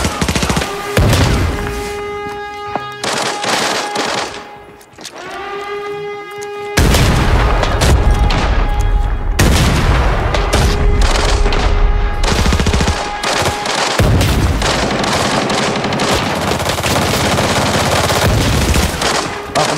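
USAS-12 automatic shotgun fire in the video game Arena Breakout, loud, close rapid booming blasts in long strings with a brief lull near the middle, then sustained heavy firing.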